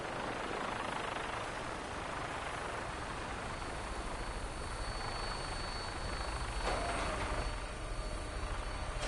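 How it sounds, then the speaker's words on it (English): A helicopter arrives in the video game Fallout 4, its rotor a faint, steady whooshing chop under a broad hiss, holding evenly throughout without speech. "Here comes my helicopter."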